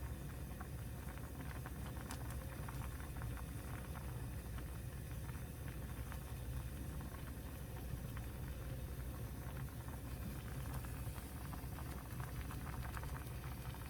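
A pot of soft tofu stew bubbles and simmers steadily at a low level over medium heat, with soft popping and gurgling throughout.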